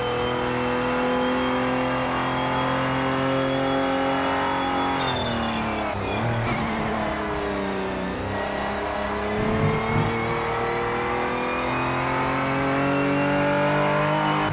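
A Mazda race car in Project Motor Racing on PS5 gives a loud, sustained engine drone that revs high, dips as the driver lifts off midway, then climbs again, with faint tire scrubbing and no talk.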